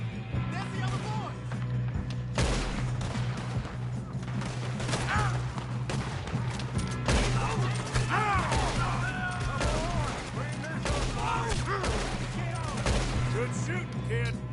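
Rapid bursts of gunfire in Red Dead Redemption II crack out in a sustained shootout, with repeated overlapping shots and voices talking over the din.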